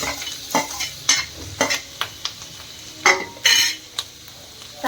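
Crab stir-fried with chili and ginger in a pan: a spatula scrapes and tosses in quick irregular strokes over a soft sizzle, close and fairly loud, with no talking.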